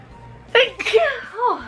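A single sharp sneeze bursts out up close, followed by a brief voiced exclamation trailing off.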